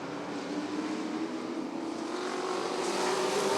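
Sportsman race cars racing at Rockford Speedway make a continuous engine roar, rising steadily as they accelerate and holding loud throughout.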